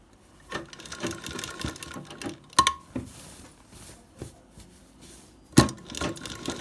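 Sewing machine stitching a patch onto kadai embroidery, short bursts of rapid mechanical clatter separated by pauses, with a few sharper knocks, close and fairly quiet.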